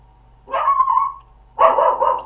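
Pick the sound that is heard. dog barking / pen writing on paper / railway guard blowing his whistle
dog barking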